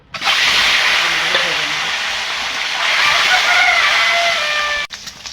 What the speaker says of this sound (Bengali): তেলটা গরম হয়ে গেছে, এবার ডিমগুলো ভেজে নেব।